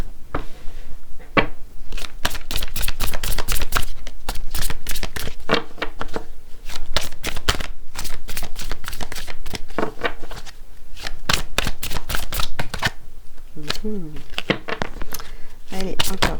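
Playing cards are shuffled and drawn in quick bursts of riffling and snapping, with short pauses between them. A person talks throughout.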